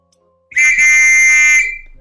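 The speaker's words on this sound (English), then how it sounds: "Don't you blow me whistle again." A single loud, shrill whistle blast sounds close by, held steady for about a second before stopping abruptly.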